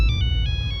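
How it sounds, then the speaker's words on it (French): A mobile phone ringtone plays, a bright repeating electronic melody in short pulses, loud and close over a low background rumble. "C'est le tel à qui c'est encore, wesh, c'est quoi cette sonnerie?"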